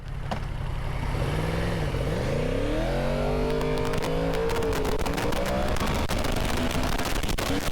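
A Mercedes car accelerates hard in a street race beside a 2020 Yamaha R1 motorcycle. The engine note climbs through several rising gear sweeps and stays loud and close over constant wind rush for the whole stretch.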